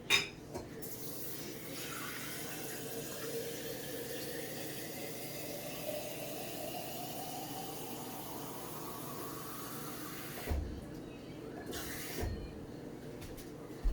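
Water poured steadily into a jar in a kitchen for about ten seconds, the filling tone rising gradually as the jar fills, with a few faint clinks near the end.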